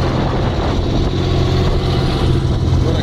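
A boat motor runs steadily and loudly heading out to the open sea, a constant low droning rumble throughout with no talking.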